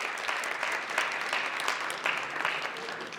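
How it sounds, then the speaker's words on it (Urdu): An audience applauds the guests at a live event, a sustained crackle of many hands clapping at moderate level throughout, with no pause. "بہت ساری تالیاں مہمانوں کے لیے before they leave"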